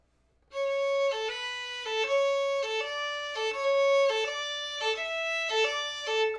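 Solo violin notes bowed in a steady long-short dotted rhythm, each pair repeating evenly and close, bright and sustained with no voice over them.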